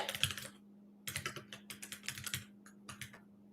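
Quick bursts of typing on a computer keyboard, close and clicky, with short pauses between clusters of keystrokes over a faint steady hum; no talk.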